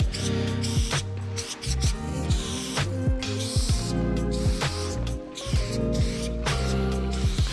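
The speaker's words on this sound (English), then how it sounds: "Using a fat cap makes painting faster, but you definitely use more spray paint" Bursts of spray from a paint can fitted with a level 6 fat cap, laying down graffiti in an old factory, coming as repeated hissing strokes with short pauses between them, close to the microphone and with no talk.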